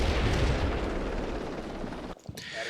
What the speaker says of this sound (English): The Apache that's been floating around also decides to put some rockets into the 2-story building